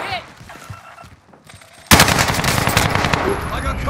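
Rapid automatic gunfire in the video game Call of Duty: Modern Warfare erupts suddenly and loudly after a quieter stretch of game sounds and talk, continuing as a dense burst of shots.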